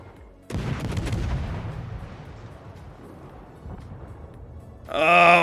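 Main battery guns of the HMS Emerald, a Tier V British light cruiser in World of Warships, go off in one heavy booming salvo that rolls away slowly, followed near the end by a brief tonal game sound.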